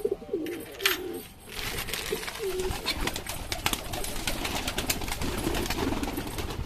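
Pigeons coo repeatedly in soft, rolling bursts as they come out of an opened loft amid a busy outdoor bird chorus, with chirps scattered throughout and a brief flutter early on.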